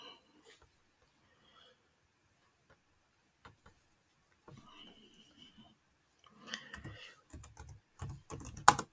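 Sparse keystrokes on a computer keyboard while writing Terraform code, scattered soft taps early on, then a denser, louder burst of typing near the end, with no talking.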